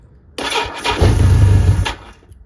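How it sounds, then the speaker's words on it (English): A cold 1981 Yamaha XS1100 motorcycle cranks and fires up, a loud, close burst of starter whine and engine catching that rises for about a second and a half, then drops away. "So now I'm going to start the bike"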